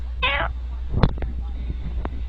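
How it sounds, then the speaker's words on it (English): A domestic cat gives one short, high meow near the start, followed by a few soft knocks and clicks under a steady low background hum. "No, Kitty, this is my pot pad."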